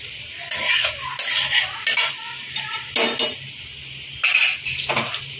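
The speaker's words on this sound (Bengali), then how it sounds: "আবার একটু নেড়ে নেব।" Softened capsicum is stirred with fried cashews and raisins in a pan for Bengali-style fried rice. Repeated scraping and clinking strokes of a utensil against the pan sound close and fairly loud over a light sizzle.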